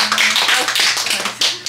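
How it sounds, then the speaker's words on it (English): Several people clap together in a small group, a dense run of hand claps lasting under two seconds, close and lively with no talk over it. "I think we should clap,"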